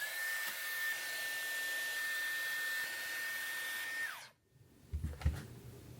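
A hair dryer blows hair dry in a steady, loud whir for about four seconds, then cuts off abruptly, leaving a quiet room with a few soft handling bumps.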